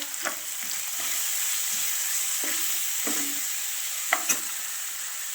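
Chopped tomatoes with turmeric frying in hot oil, stirred with a utensil: a continuous close sizzle broken by repeated scraping strokes against the pan.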